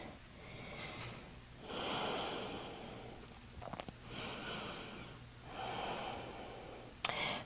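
Slow, deep breathing during a slow yoga flow for the glutes, with three long, audible inhale-exhale swells, close and fairly quiet, plus a few small soft clicks and rustles.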